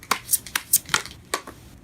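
Tarot cards being shuffled by hand, a run of about seven quick, crisp riffling bursts close up, fairly loud and unevenly spaced, with no talking.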